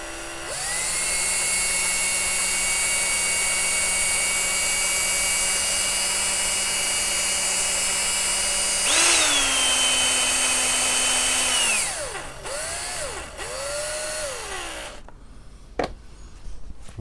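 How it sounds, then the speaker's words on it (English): A quarter-inch electric drill whirs steadily at close range on a workbench beside a rusty old STC farm radio, its pitch rising and dipping as load changes, then winding down and stopping near the end. "I've got a 1/4 inch drill."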